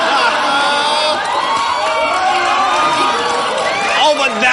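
A live comedy podcast crowd in a Chicago venue cheers and whoops loudly and continuously, with shouts and mixed voices filling the room.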